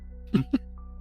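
A single short sneeze, two quick bursts close together, fairly near and moderate in loudness against a quiet background.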